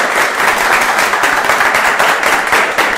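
An audience applauds General Luis Mendieta at a public speaking event, a steady, dense wash of many hands clapping close by that fills the whole stretch without pause.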